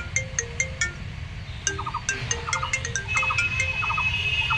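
A phone ringtone plays for an incoming call, a bright melodic pattern of repeated short tones that starts, pauses briefly, then continues and grows a little louder, with no talking over it.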